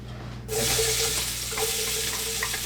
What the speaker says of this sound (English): we're going to take the pork over, and we're going to get it seared